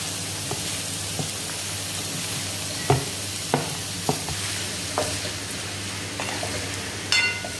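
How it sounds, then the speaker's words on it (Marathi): Grated bottle gourd for dudhi halwa is stir-fried in melted ghee in a kadhai: a soft continuous sizzle broken by repeated sharp scrapes and knocks of the stirring spoon against the pan, close and clear, with no voices. "इथे तूप मेल्ट झालं आणि त्यानंतर आपण सर्व किस भाजून घ्यायचं आहे."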